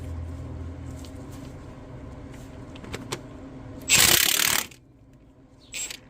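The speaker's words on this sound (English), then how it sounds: "it's a 19mm socket, and I got it on my impact gun. So I got this set on full blast in reverse" A pneumatic impact gun running in reverse at full power, fitted with a 19mm socket, hammers loose a Honda Accord crankshaft pulley bolt in one loud rattling burst of under a second, over faint workshop noise, with a briefer mechanical rattle later.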